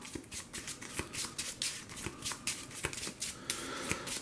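A deck of playing cards being shuffled for a solo tabletop round of Thunderstone Quest, sleeved cards riffling in a run of crisp, close flutters and snaps with brief pauses between bursts.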